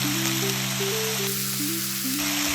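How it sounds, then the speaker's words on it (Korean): Chopped onion, green onion, minced garlic and minced ginger stir-fry together in a pan for braised short ribs, giving a steady, dense sizzle with no speech. Tonal music plays in the background. "썰어둔 양파와 파, 그리고 다진 마늘, 다진 생강을 함께 넣어 볶다가"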